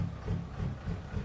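In a video game, a Western Star 6900 logging truck's engine idles with a deep, low rumbling throb that pulses steadily and plays alone at moderate volume.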